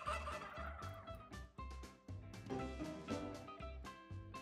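Turkeys gobbling in the video game Stumble Guys, a rapid string of loud, close gobbles repeating in quick bursts without pause.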